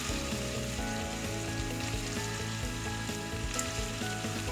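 Onions frying with salt in a pan for prawn biryani, a continuous close sizzle with crackling and stirring, no one talking.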